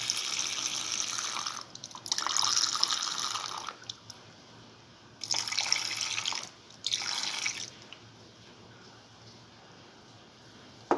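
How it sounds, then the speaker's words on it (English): Milk poured into a pot for a split pigeon pea vermicelli soup, heard as several bursts of pouring liquid splashing, each lasting one to two seconds, separated by quiet pauses. "Now pour in around 100 to 150 ml of milk."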